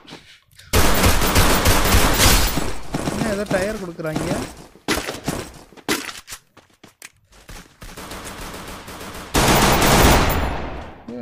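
Rapid bursts of firecrackers going off in loud, dense crackling volleys, separated by brief gaps, with excited voices talking over them between bursts.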